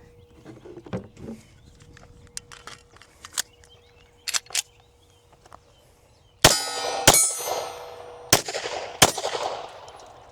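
Shots from a steel-frame Canik handgun ring out at an outdoor range, with several sharp cracks in the latter half and ringing clangs from steel targets, preceded by fainter distant shots and metallic clinks.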